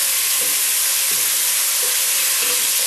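Crayfish for a bisque sizzle in a pan, a steady bright frying hiss held throughout with a few soft stirring knocks, close and moderately loud, with no one talking.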